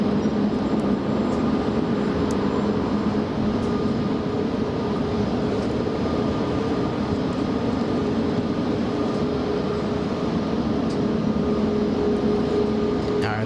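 A jet airliner on takeoff from runway 24 at LAX, a continuous broad roar with a steady droning tone, loud and unbroken throughout with no clear voices.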